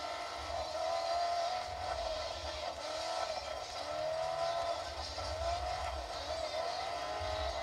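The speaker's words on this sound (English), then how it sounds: "I love myself rally racing games." Rally racing video game played on a Wimaxit M1410CT portable monitor: a steady engine drone with repeated rising whines and tire scraping as the car slides through turns, moderately loud and continuous with no talking.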